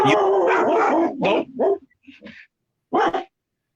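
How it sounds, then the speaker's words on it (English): A dog barks and yips excitedly nearby, a loud rapid burst of barks followed by scattered quieter whimpers and a final sharp bark after a pause. "Dog's going crazy now."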